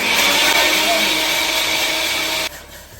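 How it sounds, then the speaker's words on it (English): A kitchen blender runs loudly and steadily with a little water inside to rinse it, a broadband whirring roar that cuts off sharply near the end, leaving a quieter hum. "I will rinse my blender. I like to rinse my blender this way. I'll add a little water."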